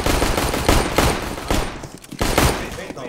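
Rapid automatic gunfire in Counter-Strike: Global Offensive, with loud bursts in quick succession, a brief pause, then more shots, up close and dominant throughout.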